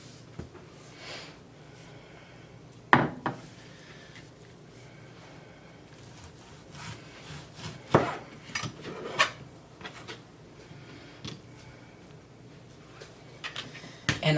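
A knife dices ham into cubes on a cutting board, giving a few sharp knocks against the board between long quiet stretches, close and fairly faint.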